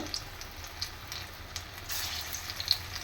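Food frying in oil, a soft steady sizzle with faint crackles and small bubbling pops, fairly quiet and close, with no talking.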